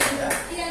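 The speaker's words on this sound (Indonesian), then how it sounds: "Oke, tepuk tangan buat dia." Brief clapping from a classroom of children praising a student, a short burst of hand claps with a faint tone running underneath.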